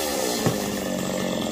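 A chainsaw runs steadily while cutting down a fig tree, a loud continuous engine drone with a brief bite near the start as the chain digs into the wood.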